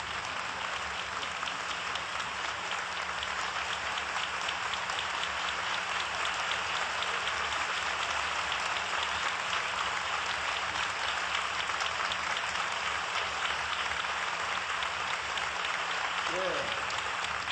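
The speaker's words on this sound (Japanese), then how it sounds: "皆さん温かい拍手で迎えてください" A congregation at a church service applauds warmly to welcome visiting guests. The clapping is a steady, even wash of many hands that holds at moderate loudness for the whole stretch with no talk over it.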